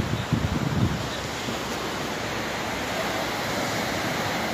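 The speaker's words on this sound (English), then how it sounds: "Catch the waves behind me. Good old New England coastline." Ocean surf on the New England coastline, a broad steady wash of breaking waves mixed with wind rumble against the microphone, loudest in the first second.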